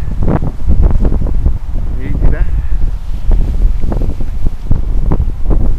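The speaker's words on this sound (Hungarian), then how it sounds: "Elég erős most a szél, nagyon-nagyon-nagyon erős most a szél." Very strong, cold wind batters the microphone in gusty, rumbling bursts that come close and loud while someone briefly speaks.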